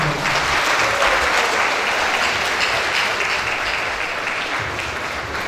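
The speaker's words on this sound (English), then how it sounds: "I will keep clapping for him for that wonderful presentation of the 17th inaugural lecture" Loud, dense applause from an audience at the close of the 17th inaugural university lecture, a steady unbroken wash of clapping that holds level for the whole stretch with only a slight fade near the end.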